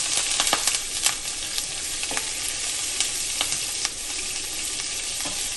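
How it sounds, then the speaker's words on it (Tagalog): Pork sautés in a pan, a loud continuous sizzle close up, broken by occasional clinks and scrapes of a utensil stirring the meat. "Take some minutes sa pork para lutuin. Sauté."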